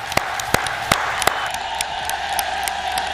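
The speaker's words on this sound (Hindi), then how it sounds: "ये मोहतरमा के लिए सब इनके लिए तालियां बजाओ एक बार" An audience claps in applause, sparse sharp individual claps at first settling into a thin, steady patter from a moderately sized crowd; no talking.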